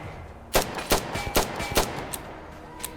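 Game gunfire from an M16A2 in Tactical Assault VR, with several sharp, close shots in quick bursts followed by a couple of fainter single clicks.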